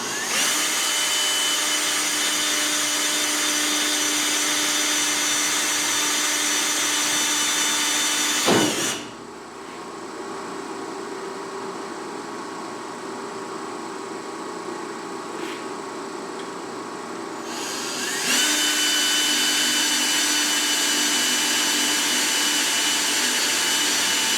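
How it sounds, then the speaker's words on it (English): A power drill with a 1/8 inch bit whines steadily while boring holes for a tail stock tool rack. Partway through, the pitch drops and softens as the bit bites in, then the sound rises back to its earlier level. "Drilled those with a 1/8 drill bit."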